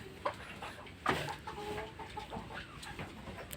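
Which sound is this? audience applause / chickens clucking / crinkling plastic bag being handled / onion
chickens clucking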